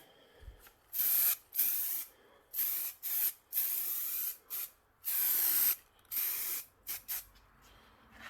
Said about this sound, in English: You've seen it right there, it spit when I first sprayed it.